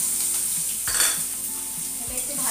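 Slit green chillies and chopped tomato sizzle in a pan of oil after fried eggs, with a steady hiss and a few metallic spatula scrapes and stirs, close and without voices.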